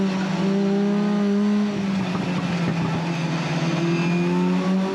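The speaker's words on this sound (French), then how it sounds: "Je viens de bloquer mes roues" A race car on the Paul Ricard circuit locks its wheels, its loud engine drone holding steady tones with a rough tire scrub breaking through midway, close and continuous throughout.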